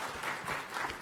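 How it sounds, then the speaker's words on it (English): Audience applause at a quiz finale, a brief burst of crowd clapping heard alone and at moderate volume. "Huge round of applause for that answer."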